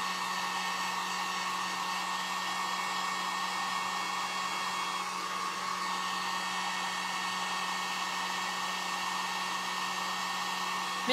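A hair dryer blows steadily and close, drying paint on a craft project with an unbroken whirring hum and no voices.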